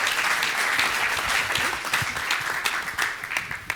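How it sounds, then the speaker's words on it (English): An audience at a talk on extended realities for learning gives a round of applause, a dense wash of clapping that stays full and then thins toward the end, with a few sharper individual claps standing out. "Big round of applause."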